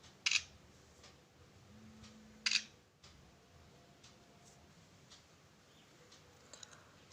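A Realme 5 smartphone camera fires two short, crisp shutter clicks about two seconds apart, with faint ticks near the end, over a quiet background.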